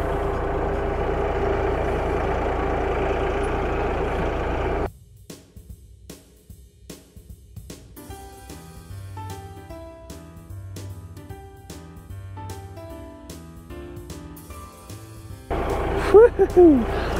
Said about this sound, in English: Got the tractor rumbling up here